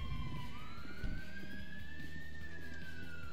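A police car siren in GTA V wails in a rising then slowly falling tone over a dense engine and traffic rumble, steady and fairly loud throughout.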